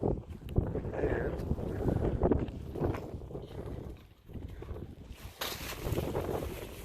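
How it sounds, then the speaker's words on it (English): Wind gusts across a backyard where a dog plays with rope toys and bones, buffeting the microphone in loud, low rumbling bursts over the whole stretch, with a person talking intermittently over it. "It's windy."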